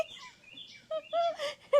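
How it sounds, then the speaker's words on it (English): A bird calls outdoors at a rimfire shooting range, a few short chirping notes at moderate distance in otherwise quiet air. "we've taken care of that pesky bird with the shotgun"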